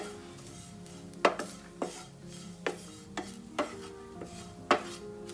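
Red chili and coriander powder stirred in a hot pan with the flame off, a spoon scraping and clinking against the metal in irregular strokes over a soft background hum.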